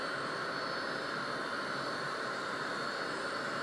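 A Hawker Hunter jet engine in a flight simulator, a steady, loud, continuous turbine roar with a high whine layered on top and no change in level.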